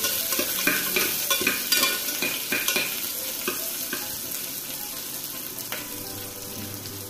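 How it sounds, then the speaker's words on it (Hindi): Chopped onion stirred in a cooking pan for palak mix khichdi, with close scraping spoon strokes over a steady, soft sizzle and no voices. "मैं यहाँ पे एक प्याज डाल दे रही हूँ, थोड़े से इसे हिला देती हूँ।"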